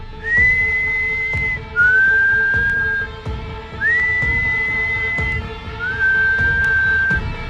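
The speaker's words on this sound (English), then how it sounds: "he starts to do his old classic savior whistle" Someone whistles a slow four-note tune, each note held long and rising slightly, repeated twice over a background of scattered knocks and clatter.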